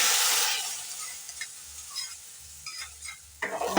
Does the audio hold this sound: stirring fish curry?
yes